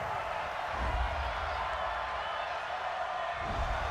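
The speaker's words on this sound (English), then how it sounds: "this crowd does not like that call" A football stadium crowd reacts to a penalty call during an NFL game between the Minnesota Vikings and Washington Redskins, a broad distant roar of voices swelling and easing under a commentator's talk.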